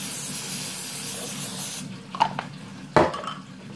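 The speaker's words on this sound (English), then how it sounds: "spray your nonstick cooking tray" A steady close hiss of aerosol cooking spray onto a nonstick tray runs for about two seconds and stops, followed by a few sharp clatters of something set down.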